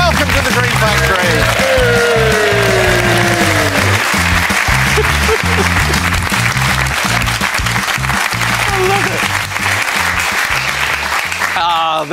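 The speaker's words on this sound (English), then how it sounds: "There was a different tone to the cheering on this Monday." A Deal or No Deal studio audience cheering and applauding, a dense, loud, continuous wash of clapping and shouts, with a host's voice calling out over the top near the start.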